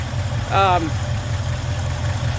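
The original engine of a Ford Fairlane, roughly 129,000 miles on it, idles with a steady low rumble nearby, while a voice cuts in briefly near the start.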